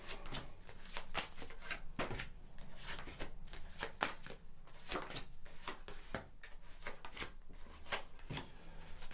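Tarot cards are shuffled by hand in a quick, crisp run of riffling flutters and soft slaps, close and fairly quiet, with no talking.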